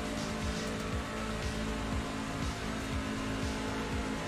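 Race truck engine on a lap of Talladega in the iRacing game: a loud, continuous engine drone with a rhythmic pulsing pattern, steady throughout with no talk.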